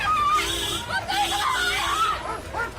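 A girl screams as she runs after a departing police car, her high cries carried above a crowd's babble and shouting voices.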